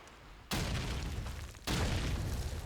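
Two heavy grenade blasts in Call of Duty 2, each a sudden booming burst followed by a sustained rumble, arriving about a second apart.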